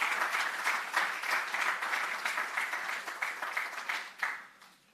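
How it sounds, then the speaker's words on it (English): An audience at an educators' awards ceremony claps for a speaker coming up, steady moderate applause that thins and fades away at the end. "please, give him a round of applause as he comes to give you an overview of the project"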